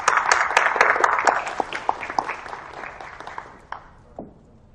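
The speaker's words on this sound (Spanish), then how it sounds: "Un aplauso para él." Audience applause for a pharmacology lecturer at a psychiatry talk, a dense burst of clapping that thins into a few scattered claps and fades out.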